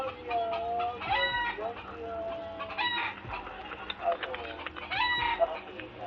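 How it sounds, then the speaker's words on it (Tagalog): Chickens cluck and call close by in short, choppy bursts, with a drawn-out crow-like cry among them, while people talk faintly in the background throughout. "May manok dito oh"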